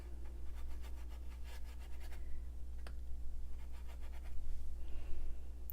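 A paintbrush swatches Jackson's Trio warm sepia paint onto textured paper, giving soft, close scratchy strokes in short repeated passes with a faint hum underneath.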